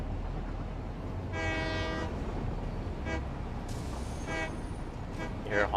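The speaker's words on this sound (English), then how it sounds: "You hear honking when I'm clicking." Train horn in the factory-building game Satisfactory, several honks in separate bursts of varying length over a steady dense mechanical background, fairly loud.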